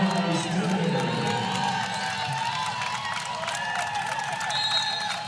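Crowd noise fills a women's college basketball arena during a Wake Forest vs. Miami ACC game: steady applause and cheering, loud and continuous, with scattered shouts and squeaky tones over the roar.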